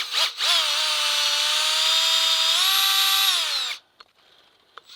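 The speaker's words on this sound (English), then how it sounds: "drill in the full length just to the end of the bit" A power drill bores a tap hole into a maple tree for syrup tapping, whining steadily for about three and a half seconds with a slight pitch rise near the end, then stops, leaving a couple of faint clicks.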